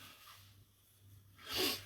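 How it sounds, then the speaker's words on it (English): A quiet pause, then a single sharp nose blow from someone with a cold near the end, close and brief. "excuse me while I blow my nose"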